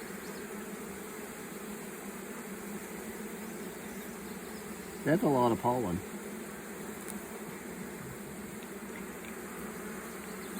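Honeybees hum in an open beehive during a frame inspection, a steady low drone running throughout, with a brief louder burst of buzzing near the microphone midway while a person talks nearby.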